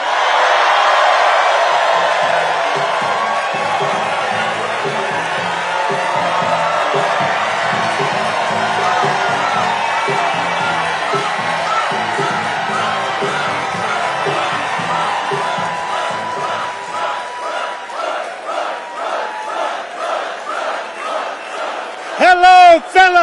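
A large crowd at a campaign rally in Raleigh, North Carolina cheers, whoops and shouts loudly for a long stretch. Near the end it settles into rhythmic clapping, and a close voice cuts in at the very end.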